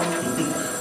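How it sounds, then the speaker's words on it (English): A telephone bell rings continuously in a Christmas radio broadcast, a steady metallic trill filling the whole moment with no voices over it. "you'll have to answer that phone"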